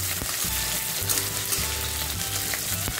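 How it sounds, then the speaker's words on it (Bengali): Chopped ginger and garlic fry in a hot pan with a constant crackling sizzle, and a spatula stirs and scrapes now and then, close up and with no talking. "এবার চপ করা আদা রসুনটা দিয়ে দিলাম। এটাও ফ্রাই করে নেব যতক্ষণ না এর কাঁচা গন্ধ থাকে।"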